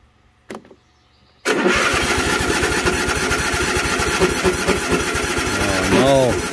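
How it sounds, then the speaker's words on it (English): A Kawasaki V-twin engine with a stuck choke is started without choke: a brief tick and a short crank, then it catches and settles into a loud, steady, throbbing idle, with a voice speaking near the end. "This is the point where it would not start, so I'm not going to choke it."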